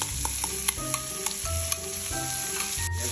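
Garlic cloves and half an onion fry with charque in a pan, a close crackling sizzle broken by sharp clicks and scrapes of stirring, with no one speaking.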